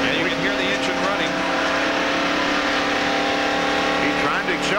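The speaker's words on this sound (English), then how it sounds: "And you can hear the engine running." A damaged, blown Valvoline Ford race car engine runs steadily at about 4,000 RPM in fourth gear at the 1992 Hooters 500, a loud continuous drone with voices over it.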